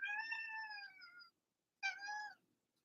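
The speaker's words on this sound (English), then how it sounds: "I think Kitty Cat wants to say hi." A cat gives two meows close by, a long drawn-out one followed after a short pause by a shorter one, in an otherwise quiet room.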